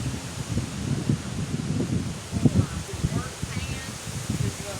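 Storm wind during a squall line buffets the microphone with low rumbling gusts and rustling, steady and fairly close throughout, with a voice speaking faintly at moments.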